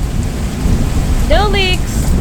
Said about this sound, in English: It is downpour right now.